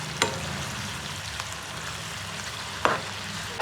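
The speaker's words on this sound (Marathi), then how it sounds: "पॅनमध्ये तेल टाकून तो सोनेरी होईपर्यंत" Chopped onion frying in oil in a pan, a steady soft sizzle with a few sharp clicks of a spoon against the pan, close and quiet with no speech.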